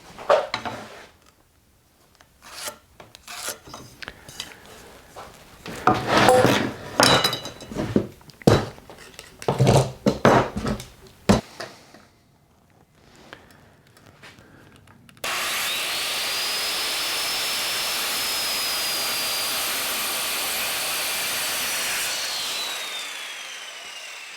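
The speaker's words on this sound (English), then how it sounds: "I will cut that once again using my circular saw" A circular saw cuts a wooden neck blank for a Precision Bass build, first with rough, bursty cutting and handling noise, then a loud, sustained whining run through the wood that ends abruptly.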